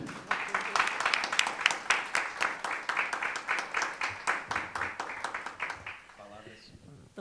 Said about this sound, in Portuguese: já queria também pedir palmas antecipadas para a nossa conferencista